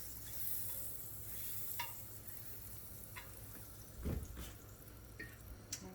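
Butter frying in a pan while banana pancakes cook, with a low, steady sizzle running throughout, a few faint clinks and taps, and a brief louder scrape near the end.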